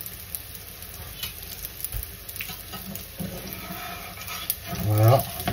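Faint, continuous sizzle of chickpea socca batter cooking in a hot pan, with light clinks and stirring noises and a voice speaking briefly near the end.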